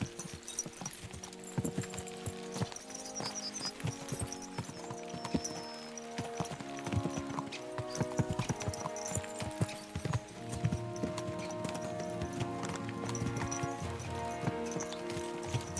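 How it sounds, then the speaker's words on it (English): Rhythmic clip-clop of horses' hooves trotting in the video game Kingdom Come: Deliverance II over a steady musical background, continuing throughout at a brisk, even pace. "Let's really spur these horses on, eh?"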